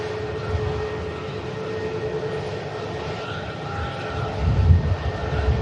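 Aircraft on flight 4608 to Scandinavia at Manchester Airport, a steady broadband engine roar heard from a distance that swells slightly near the end, with no talk over it.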